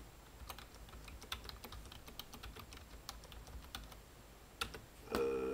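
Close keystrokes tap out code on a computer keyboard in an uneven run of clicks over quiet room noise, ending in a slightly louder final press.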